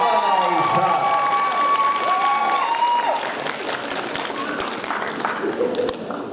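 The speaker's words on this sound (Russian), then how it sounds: "Аплодисментами встречаем новый гость." An audience at an Asian-themed karaoke contest applauds a new contestant, a dense wash of clapping mixed with some cheering and voices that eases slightly in volume after the first few seconds.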